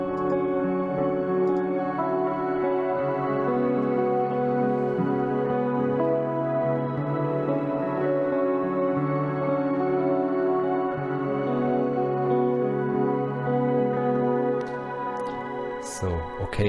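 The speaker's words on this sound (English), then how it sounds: "And then I added an amp sim with lots of shimmer pedal" Clean electric guitar on the neck pickup through an amp simulator with heavy shimmer, a slow wash of sustained, chiming chords and notes blending into a dense, reverberant pad that continues almost unbroken before a few brief taps at the end.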